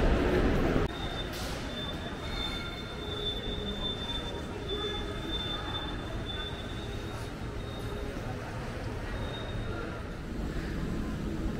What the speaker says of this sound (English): And there is our train